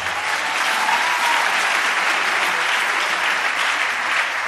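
Congregation applauding together during a French-language church service, steady dense clapping from a large crowd, loud and close, with no talk over it.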